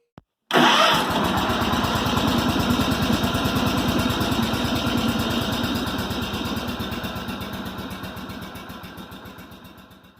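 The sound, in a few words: Kohler M18 engine running, Cub Cadet 1882 tractor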